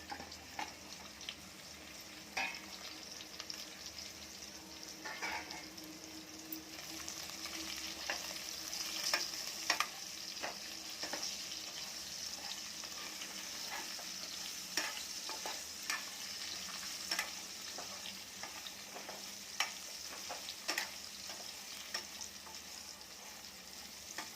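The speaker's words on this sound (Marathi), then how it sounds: "आता थोडेसे बटाटे होत आले तर आता शेंगा टाकूया" Drumsticks (moringa pods) tossed into potatoes frying in a pan, a continuous soft sizzle with repeated scraping clicks of a spoon stirring throughout, no talking.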